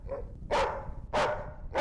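A dog barks three times in quick succession, loud and close, the sharp barks evenly spaced about half a second apart with no speech.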